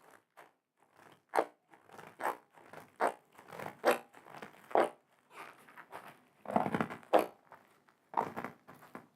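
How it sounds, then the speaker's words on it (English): A zip tie tool ratchets and compresses a zip tie around flexible duct insulation, giving a quiet series of uneven clicking, crunching pulls spread over several seconds, with no talking. "get your tool, slide it over the zip tie, and compress"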